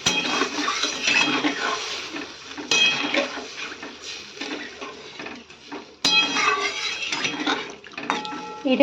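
Water pours into a pot of thin Bengali pabda fish curry with vegetables: a steady splashing rush close up, with clinks of utensils against the pot, broken by a brief pause before the pouring resumes.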